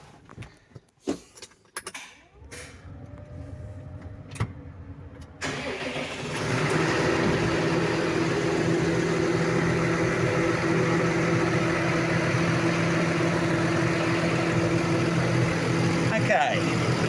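A New Holland T7 tractor with a Zuidberg front linkage fitted has a few sharp clicks and knocks, then the engine cranks and fires up and settles into a steady, even idle.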